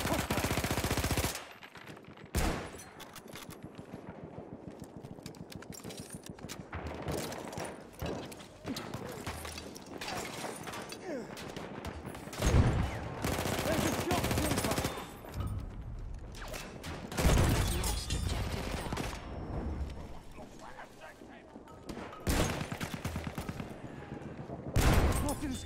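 Bursts of machine gun fire in Battlefield 1 gameplay, rapid continuous rattling salvos amid loud battlefield din with several sharp heavy reports standing out.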